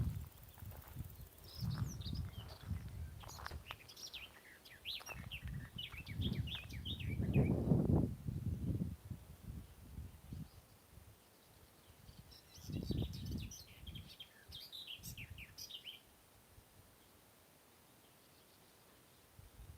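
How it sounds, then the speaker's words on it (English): Fairly faint, varied starling song with rapid chirps and warbles in outdoor quiet, with soft low rumbles underneath. "Sounds like a starling."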